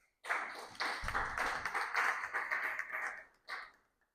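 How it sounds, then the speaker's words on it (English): An audience claps together in a hall after a school-of-education dean is introduced at a recognition ceremony; the applause swells for about three seconds, then fades with a brief final burst. "Please, let's give him a round of applause."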